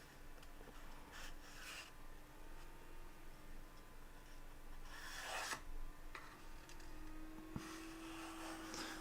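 A half-centimetre divot being cut into a piece for a glue channel while building an Ork Rock stage model, giving quiet rasping, scraping strokes in short bursts with small ticks between them.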